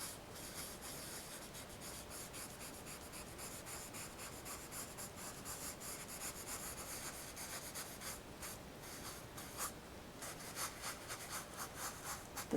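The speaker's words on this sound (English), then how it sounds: "Keep turning that paper towel over so you get clean edges." A paper towel rubbed and dabbed across painting paper while working on an alpine mountain landscape, making a continuous soft scratchy scrubbing with small irregular strokes, close and quiet.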